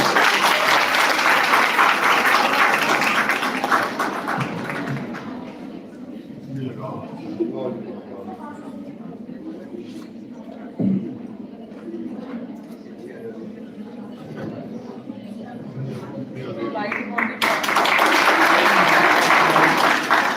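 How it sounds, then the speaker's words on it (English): An audience at a college of education ceremony applauds loudly for a few seconds. A speaker then talks over a quieter room, and the full applause returns near the end. "Please give a big round of applause."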